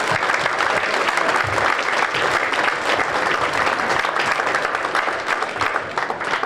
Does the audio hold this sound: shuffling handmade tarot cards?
no